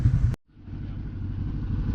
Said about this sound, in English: Cisco running the Commander, 1000cc Commander X with a Maverick engine o